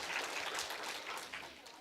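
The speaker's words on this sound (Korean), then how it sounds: "우리 격려의 박수 한번 해주겠습니다." A church congregation applauds in a dense, steady burst of clapping that carries on for the whole stretch, with faint voices mixed in.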